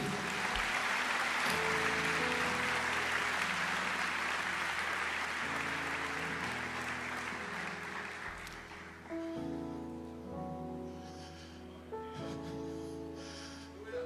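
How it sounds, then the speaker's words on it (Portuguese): A church congregation applauds during a sermon, a full, steady wash of clapping over a sustained organ or keyboard chord, fading after several seconds as the music continues alone. "Aplauda o Senhor, igreja."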